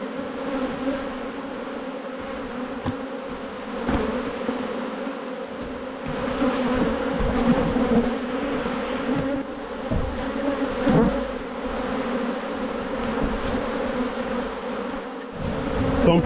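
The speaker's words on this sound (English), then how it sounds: "So I'm pretty happy with the numbers of bees in this hive." Honey bees buzz steadily around an open hive being inspected, a dense continuous drone close by with small shifts in loudness and no speech.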